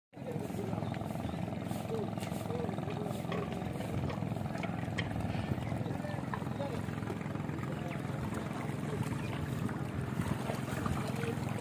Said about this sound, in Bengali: একটা নৌকা আসতেছে দর্শক